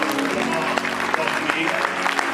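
A church congregation applauds to acclaim the Lord, a steady wash of clapping from a crowd that continues under a voice speaking over it.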